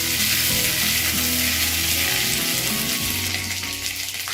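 Dry red chilies, cumin seeds and ginger garlic paste sizzle and crackle loudly in hot oil in a village cooking setting, a steady close frying hiss with faint stirring and no talk.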